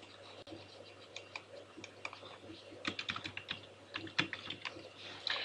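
Soft, irregular keystrokes on a computer keyboard tap quietly while data is typed into an Excel worksheet, with quick clusters of clicks and brief pauses over a low background hum.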